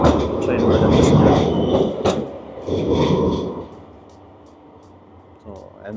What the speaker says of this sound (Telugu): ట్రైన్ కూడా కనిపిస్తుంది.